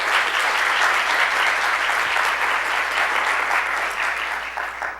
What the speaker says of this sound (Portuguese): Também acho que merece uma salva de palmas.